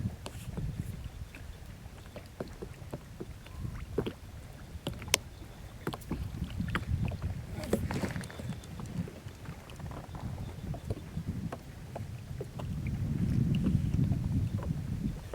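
A small fishing boat rocks on open water during a catfishing trip over deep structure, with water sloshing, hull knocks and bumps, and wind buffeting the microphone, all fairly close and without speech.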